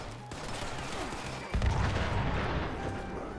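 An explosive weapon fires in Fallout 76, a dense wash of booming blasts and crackling detonations that swells sharply midway and rolls on loudly with no voices.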